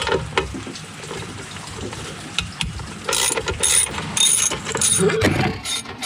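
A ratchet wrench backs out 10 mm bolts on a 2007 Nissan 350Z, making quick repeated clicking ratchet strokes over a steady background noise, close up throughout, with no speech.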